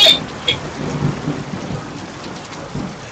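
Thunder rumbles within a steady downpour in the horror video game DreadOut, a deep roll that swells and fades under constant hissing rain.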